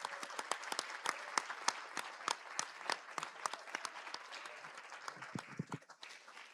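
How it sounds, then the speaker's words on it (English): Audience applause at a university Three Minute Thesis final, a steady burst of many hands clapping in a hall that thins out toward the end. "So a nice big round of applause."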